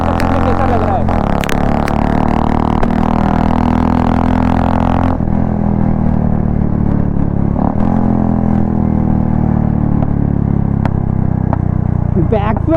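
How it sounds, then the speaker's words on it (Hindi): A Royal Enfield Classic 350 (BS4) with an aftermarket exhaust rumbles loudly and steadily throughout, with a few sharp crackling pops from backfiring scattered across the run. "बैकफायर मार रहा है भाई साहब, खतरनाक बैकफायर मार रहा है भाई।"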